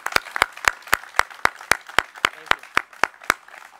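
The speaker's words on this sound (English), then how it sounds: "Let's give her a round of applause" Applause at a public event in Massachusetts during a visit by the HUD Secretary comes through as evenly spaced, crisp claps in a steady rhythm, about a dozen in a row, close and distinct.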